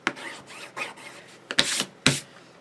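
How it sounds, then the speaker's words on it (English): A bone folder burnishes paper during assembly of a die storage folder, giving short dry rubbing strokes: a run of soft scrapes, then two sharper, louder swipes near the end, close up with no talk. "And burnish, because obviously you can't have too much burnishing."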